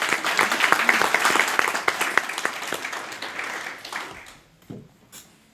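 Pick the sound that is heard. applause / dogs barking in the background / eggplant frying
applause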